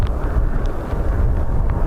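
Storm Bert's wind blusters across the open airfield at Dublin Airport, a loud low rumbling roar buffeting the microphone steadily throughout with no voices.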